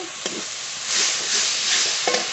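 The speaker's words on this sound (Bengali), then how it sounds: "মশলা খুব ভালো করে কষিয়ে নেব।" Spices with salt, turmeric and chopped tomato sautéing in a pan, a brief close steady sizzle with a couple of light utensil knocks.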